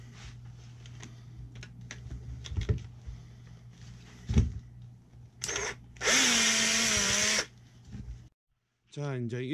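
Power tool unscrewing bolts to take apart a DeWalt 18V battery pack, with short bursts of high whirring drilling near the end, one long loud run, amid handling clatter and someone talking.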